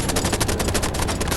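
Rapid automatic gunfire from a horror train multiplayer video game, a dense unbroken burst of shots filling the whole moment at close, loud level with no talk over it.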